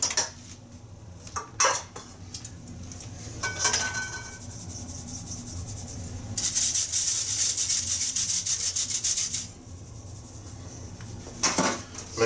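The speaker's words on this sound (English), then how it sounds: "Mix all those dry ingredients together so they're nice and evenly combined." Dry Belgian waffle ingredients, flour and sugar among them, are mixed in a bowl with a whisk or spoon, giving close scraping and rubbing strokes and a few light taps against the bowl, with no talk.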